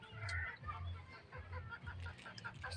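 A small flock of farmyard ducks quacks and chatters near a rural home, giving short irregular calls in uneven bursts, soft and close with no talking.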